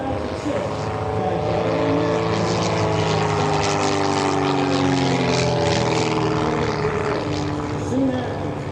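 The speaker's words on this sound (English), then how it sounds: "As you can see, Patrick is really enjoying his airplane running" A propeller airplane engine runs steadily and loudly throughout, a dense drone with harmonic tones under broad airy noise and no break in level.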